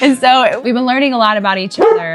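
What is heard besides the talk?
dogs barking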